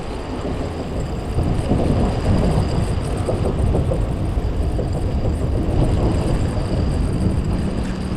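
An MRT train passes overhead on an elevated track in Singapore near Upper Seletar Reservoir, a loud, steady rumble and roar that holds throughout the clip with no talk.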